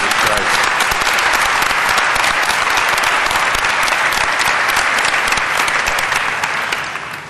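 Church congregation at First Family Church in Overland Park applauding, a dense, sustained wash of clapping that holds strong for several seconds before tapering off at the end.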